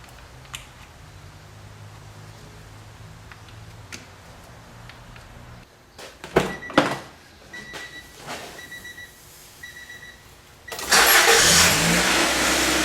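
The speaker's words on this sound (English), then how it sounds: "That's the exhaust." An Acura Integra engine cranks and starts after a distributor replacement, with clicks and a few sharp bursts before settling into a loud, steady idle with exhaust hiss close by.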